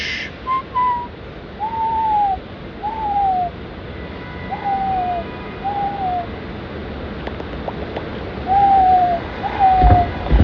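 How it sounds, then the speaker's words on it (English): A pet pigeon coos softly in repeated low, even notes, about seven calls spaced a second or two apart, close and clear against a quiet room. "That's the sound a mother pigeon makes when he's happy."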